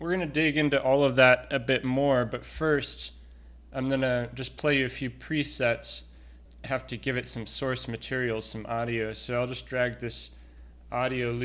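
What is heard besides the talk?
No distinct noise like a dog, phone or traffic.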